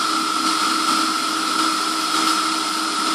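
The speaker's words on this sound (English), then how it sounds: "run a countersink into the backs of those holes just to round them off so the screws seat properly" Countersink tool rounding off the backs of screw holes in a model engine backplate, a steady high-pitched spinning whine with little variation, close and alone.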